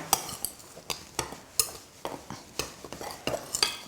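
A spoon stirs cheese into damper dough in a bowl, making soft, rhythmic scrapes and light taps against the bowl roughly every half second, quiet and close, with no speech.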